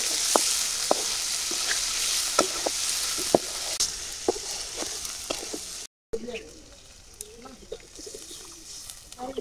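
Ginger, garlic and cumin paste fries with onions in a pan for khichuri, a steady sizzle broken by sharp spoon clicks and stirring, with faint birds cooing in the background before a brief cut to quieter frying.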